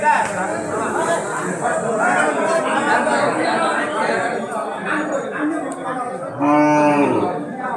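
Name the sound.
cow mooing at a cattle market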